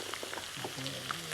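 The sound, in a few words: carrot, onion and green chilli frying in a pan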